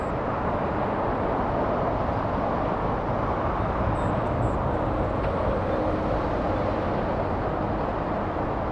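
An Asiana airliner on final approach to runway 24 right at Los Angeles LAX, landing gear lowered, gives a steady, continuous broadband roar that holds at an even level throughout, with no voices.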